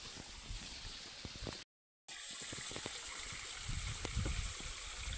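Cold mountain spring water at Torna fort in the Sahyadri range trickles and gushes steadily, close but faint, with a brief dropout partway through and no talking.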